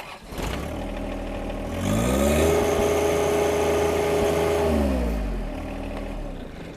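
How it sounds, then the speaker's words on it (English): A John Deere 1 Series compact tractor's diesel engine cranks, catches, and revs up to a steady loud drone, heard right by the ear, then settles back toward a lower idle. "I'm going to hold it right here by my ear and start the engine"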